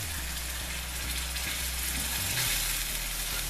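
A pot of dal makhani simmering with milk slowly poured in: a steady bubbling, frying hiss with faint rhythmic stirring or rattling underneath, close and fairly loud, with no voices.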